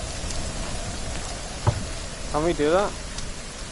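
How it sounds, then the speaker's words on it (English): Steady hiss of rain falls in the survival video game The Forest, a constant wash throughout while a person briefly speaks over it near the end. "Oh, it's beginning to rain."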